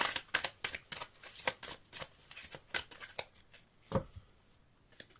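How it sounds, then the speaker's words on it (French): Small positive message cards being shuffled by hand, a rapid series of crisp riffling flutters and slaps in irregular bursts, close and alone, with one sharper card snap near the end. "je vais prendre les petites cartes positives de Sandra Marinelli"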